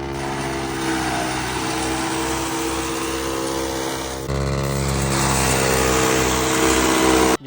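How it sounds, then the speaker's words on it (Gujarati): A tractor-driven shredder machine cuts coconut husks, its engine droning loud and continuous with a steady grinding roar that jumps in intensity midway and then cuts off abruptly at the end. "શ્રેડર મશીન એટલે કે તાલા કાપવાનું મશીન"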